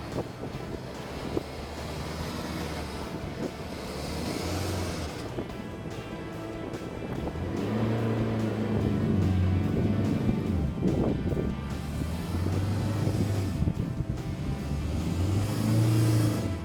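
A stuck 4WD revs hard on a sandy bypass track on Fraser Island, the engine droning and rising in pitch as the wheels struggle for grip, loud and close with wind buffeting the microphone.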